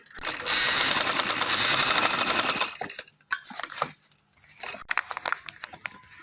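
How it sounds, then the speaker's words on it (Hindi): A sewing machine stitches a trouser patti, a cloth strip for a boutique trouser design, running in a loud, continuous mechanical burst for about three seconds before giving way to fabric rustling and handling. "हम इसको ऐसे पहले इधर सिलाई लगा लेंगे"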